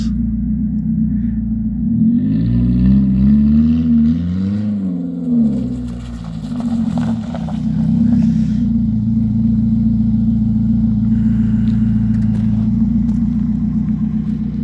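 A car fitted with a modified exhaust rumbles close by, rising and falling through a quick rev before settling back into a steady, loud, deep drone with no talk.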